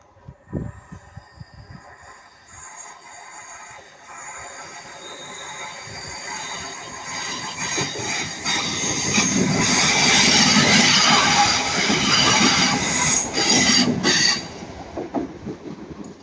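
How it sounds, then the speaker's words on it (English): A passenger train passes through Ardwick station, its rumble building from a distant approach into a loud clatter of wheels with squealing and rhythmic clicks over the rails before starting to fade. "That one should be 331-025 going from Blackpool North to Manchester Airport."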